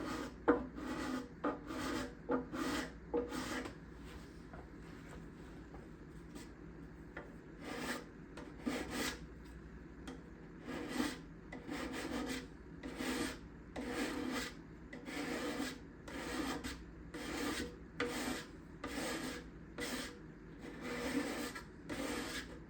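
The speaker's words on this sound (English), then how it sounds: "I'm going to go back to the other scraper for this." A sharp hand scraper drawn repeatedly along the wooden bindings on the back of a guitar body, giving a steady run of short, close rasping strokes in a loose rhythm with brief pauses between them.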